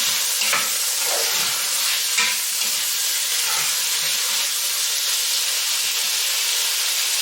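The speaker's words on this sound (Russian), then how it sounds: "Обжариваем где-то около 2 минут." Paprika frying in a pan for Peking soup, a steady close sizzle and hiss with a few soft stirring scrapes, continuous throughout with no talking.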